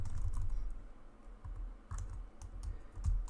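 Rapid, uneven typing on a computer keyboard, with close clicky keystrokes in quick bursts and brief pauses, no voices over it.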